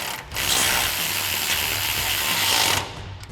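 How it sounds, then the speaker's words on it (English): Loud, continuous clicking of a ratchet with a 10mm socket tightening a bolt while fitting a suspension lift kit on a Jeep Wrangler JK, heard up close for about three seconds. "we can go ahead and tighten that down using our 10mm socket on our ratchet"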